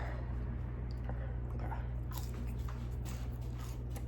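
Someone bites into and chews a quad burger up close for a mukbang, with soft squishy, moist chewing and occasional crisp bites over a steady low hum, quiet and continuous.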